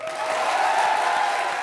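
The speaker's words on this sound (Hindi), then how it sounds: "जोरदार ताली बजाओ फिर" An audience at a stand-up comedy show claps in a dense, sustained burst of applause that swells quickly and holds steady, with faint crowd murmur mixed in.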